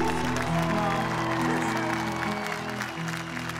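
Concert audience applauds during a show with mariachi at the Puerto Aysén anniversary, steady clapping blended with sustained instrumental music and a voice.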